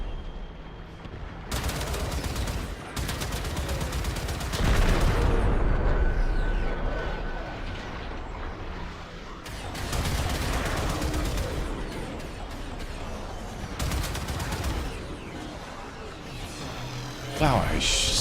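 Gunfire in the video game Warframe comes in repeated loud bursts of rapid shots separated by quieter gaps, with a voice talking throughout.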